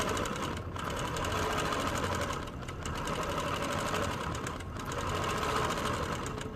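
A sewing machine stitches continuously at high speed during free motion quilting, close and loud, with its motor whir and needle chatter dipping briefly a few times as the pace shifts.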